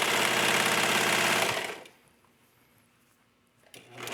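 A serger runs steadily stitching mesh fabric for a yoga top, a loud close whirring drone that stops abruptly, leaving near silence before the machine starts up again.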